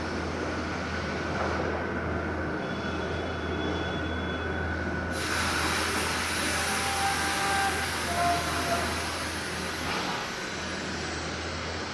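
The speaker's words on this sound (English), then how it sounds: "Cutting off the old hanger brackets." Old suspension hanger brackets being cut off the underside of a Vanleigh 394RK fifth-wheel RV during a MORryde independent suspension upgrade, a steady loud grinding and cutting roar running continuously with a shrill squealing edge, no talk.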